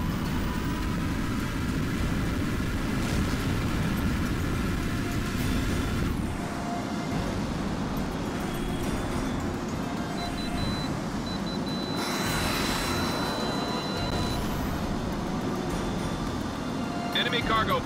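Jet aircraft engines in the HAWX flight combat game, a continuous broad roar and whine that shifts in pitch through the clip, loud and steady with no talk.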